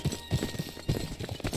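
A horse in Minecraft trots with steady, rhythmic clip-clop hoofbeats, close and fairly loud, evenly paced with no talking over it.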